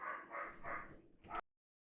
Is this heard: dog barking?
yes